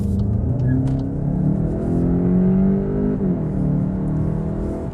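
A 2022 Volkswagen Golf 8 GTE plug-in hybrid with a 150 hp petrol engine and a 110 hp electric motor accelerates, its engine note rising steadily and then dipping briefly as it shifts. The interior drone stays loud and steady throughout.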